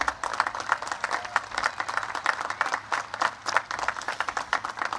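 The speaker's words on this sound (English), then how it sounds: "So let's give a big round of applause to the entire faculty and staff" A crowd at a Coast Guard Academy graduation ceremony claps in a lively, uneven burst, with individual claps standing out in a pulsing rhythm at moderate distance and no talking.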